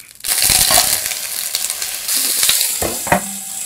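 Olive oil sizzles loudly in a hot pan for Japanese curry udon, a bright continuous hiss with crackles and a few clattering stirs, close and alone.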